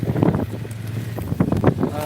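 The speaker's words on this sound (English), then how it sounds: "It's very, very windy." Strong wind buffets the microphone outdoors in freezing weather, around minus 13, with a steady rumbling roar and gusty bursts while someone talks.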